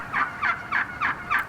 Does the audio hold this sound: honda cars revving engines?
no